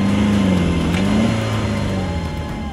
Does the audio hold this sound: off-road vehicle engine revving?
yes